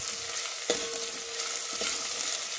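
Green chilli, ginger and curry leaf paste frying in oil over low heat for a Khandeshi buttermilk kadhi, a steady broadband sizzle with two brief stirring clinks, close and fairly loud, no voices.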